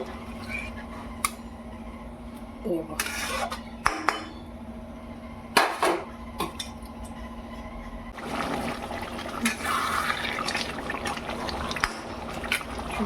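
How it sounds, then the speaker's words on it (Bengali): Water is poured into a pan of taro and catla fish as it cooks, making a faint trickling splash and a broader gush later, with a few clinks of utensils against the pan nearby. "তার মধ্যে আমি একটু জল দিয়ে দিলাম"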